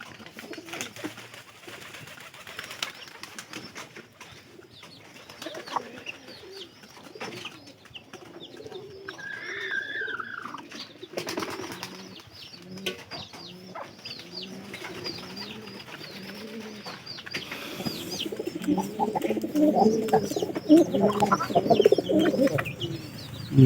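Pigeons in a coop cooing, with repeated low rolling coos near and far, some brief chirps and occasional wing flutters, and a busier burst of cooing toward the end, with faint voices in the background.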